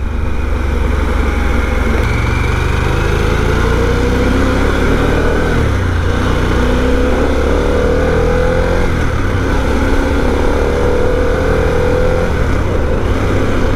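A 150-horsepower motorcycle engine drones steadily close by, its pitch rising and falling as the bike accelerates and shifts through the gears.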